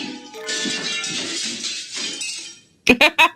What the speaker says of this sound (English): Some glass object splinters with a monumental crash behind us.